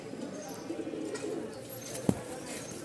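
Silver Kaldom pigeons cooing softly in a loft, a low steady murmur with one brief louder coo or flap near the end.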